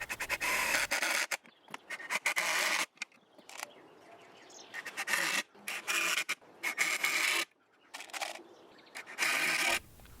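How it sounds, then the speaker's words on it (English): Light sanding by hand on metal fence pickets: short bursts of rasping strokes separated by pauses, close and fairly quiet, with no talking. "A light sanding."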